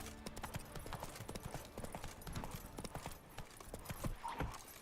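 The horse Roach in a Witcher video game, clip-clopping with steady, close hoofbeats over a busy background of ambient game sound, with faint voices underneath.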